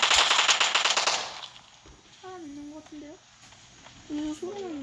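A rapid, loud burst of automatic gunfire in the video game Battlegrounds, with tightly packed shots, fading out as a voice begins talking over quieter background sounds.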